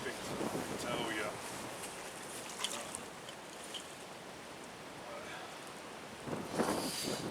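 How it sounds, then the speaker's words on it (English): Strong wind buffets the microphone at a fishing lake, a continuous rough rushing noise with a few louder gusts. "You can probably hear this wind"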